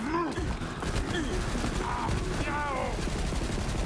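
Rapid gunfire from a weapon in Borderlands 3, dense continuous bursts filling the whole stretch with sustained intensity, mixed with layered game effects.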